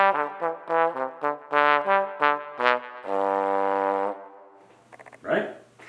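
An alto trombone plays the lively dance-like gigue from Bach's first cello suite in short phrases, warm and fairly close, ending with a sustained note and a brief breath.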